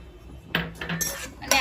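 Peanuts dropped into a metal pan of mustard seeds while cooking batata poha, giving a sharp clatter followed by light rattling and clinking as the nuts scatter across the metal.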